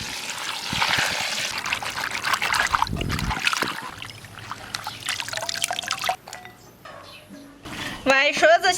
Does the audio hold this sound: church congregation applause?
no